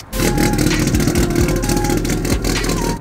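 A car engine revs nearby, a loud, rough, choppy burble that rises and holds for a few seconds before cutting off.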